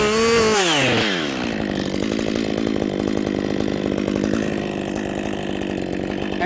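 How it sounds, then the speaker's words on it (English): A chainsaw revs loud and steady as its bar plunges into wood for a bore cut to set the hinge, the engine note dropping briefly under load and then holding a continuous cutting drone throughout. "Setting the hinge up first with a bore cut."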